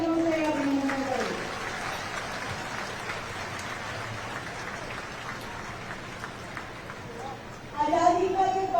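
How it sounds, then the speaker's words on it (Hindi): Sustained applause from a crowd at an Independence Day event in Delhi, a dense patter of clapping that blends with falling rain, after a voice briefly speaks at the start and end. "एक बार जोरदार तालियों से अभिनंदन करें"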